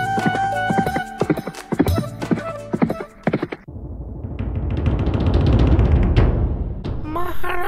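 Cartoon horse hooves clip-clopping in a quick, rhythmic trot that builds and grows louder across the clip, joined by a whinny near the end after some earlier music and voices.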